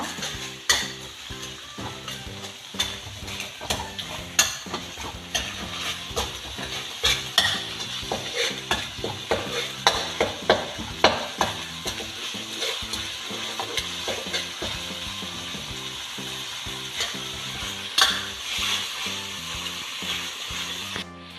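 Curry paste with sugar and seasoning powder being stir-fried in a pan, a constant oily sizzle broken by repeated scraping and clacking of the spatula against the pan, close and without talk.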